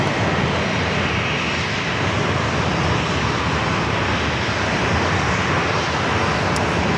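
An Alaska Airlines airliner taking off at San Diego airport, a loud, steady broadband engine roar holding at full power for several seconds without talk.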